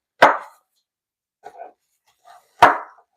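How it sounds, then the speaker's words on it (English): Knife roughly chopping garlic on a board, with two loud sharp chops at the start and near the end and a few faint softer taps in between. "So we are roughly chopping our garlic."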